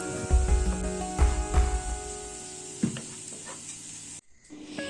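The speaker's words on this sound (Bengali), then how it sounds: "পেঁয়াজগুলোকে বেশ কিছুক্ষণ কড়াইতে নাড়িয়ে চাড়িয়ে নিয়ে যখন বাদামি রঙের হয়ে আসবে" Sliced onions sizzle in hot oil in a kadai while a spatula scrapes and stirs them in a few loud strokes, a steady frying hiss underneath, close up and with no talk.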